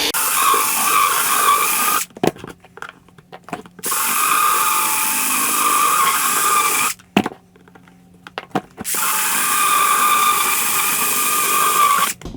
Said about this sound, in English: I'm using a rotary rasp